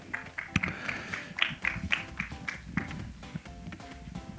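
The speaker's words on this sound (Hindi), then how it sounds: "अनिल जी के लिए एक बार जोरदार ताली होनी चाहिए" Clapping from an audience at the trailer launch of the film Veerappan, a scattered run of sharp claps that never builds into full applause, heard over a busy hall murmur.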